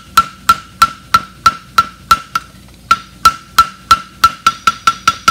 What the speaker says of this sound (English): Come in with the heel of my hammer and go out to the quarter.